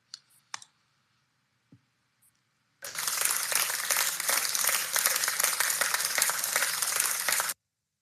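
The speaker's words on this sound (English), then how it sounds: "Who has that round of applause?" A round of applause bursts in after a few faint clicks, a dense even clapping lasting about five seconds and then stopping abruptly, with no voices over it.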